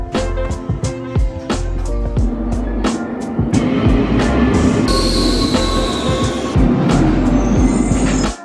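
Metro train wheels squeal loudly on the rails in Rome, long piercing high screeches over heavy rumbling and clattering of the carriages, close by and continuous, with no talk.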